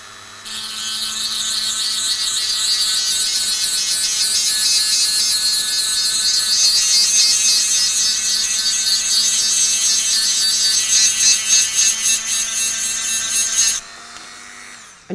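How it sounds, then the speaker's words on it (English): Steady, high-pitched whine of a Dremel 300 Series multi-tool grinding calcium off a seashell, running continuously and loudly for about thirteen seconds before cutting off abruptly. "you are going to be grinding off a lot of calcium"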